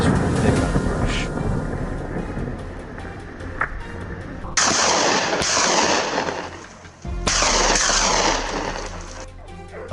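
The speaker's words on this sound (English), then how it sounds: "a gunshot rings out from James' position" A single loud, sharp gunshot cracks out during a wild boar hunt in a swamp, its report rolling away into the surroundings; a second burst of similar broadband noise follows a few seconds later over steady outdoor background.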